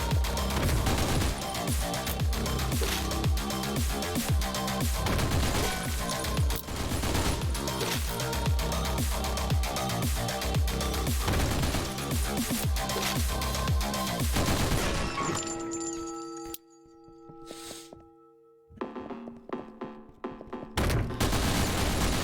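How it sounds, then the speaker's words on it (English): Dense, rapid gunfire in the video game OTXO, a relentless barrage of overlapping shots with booming low end for about fifteen seconds, then abrupt cuts to near silence broken by a few scattered bursts and game tones. "Ooh, that's a lot of bullets happening at once."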